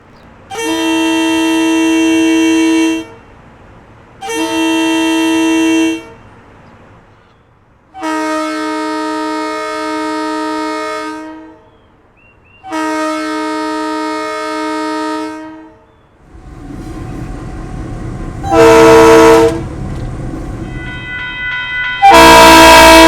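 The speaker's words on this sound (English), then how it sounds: "they sound incredibly similar to the horns on the old EMD or GE built diesel locomotives" A diesel locomotive horn in Train Sim World 3 sounds in four long, loud chord blasts separated by pauses, followed by rumbling and a final sharp blast.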